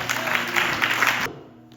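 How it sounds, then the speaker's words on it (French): Loud applause from a church congregation fills the space as a dense, steady wash of clapping, cutting off abruptly near the end and leaving a faint room tail. "Acclamez très fort pour cette parole"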